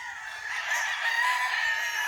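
A rooster crows loudly and steadily in one sustained call, with a faint low rumble underneath and no voices.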